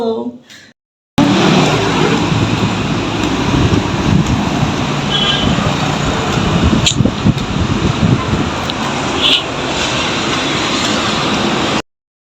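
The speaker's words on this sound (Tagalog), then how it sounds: "Traffic." Steady road traffic din from a street outing, a loud continuous rumble and hiss of passing vehicles close by with occasional sharper noises, after a brief quieter opening.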